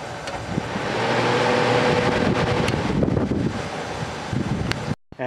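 Vintage Westinghouse 30-pint dehumidifier running, a steady loud whooshing fan and motor hum with airy broadband noise, continuous and close for several seconds before cutting off abruptly near the end.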